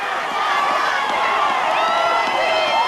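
A crowd at a high school football game between Dodgeville and Richland Center cheers and shouts, a loud continuous roar with rising whoops and whistles and a few voices standing out.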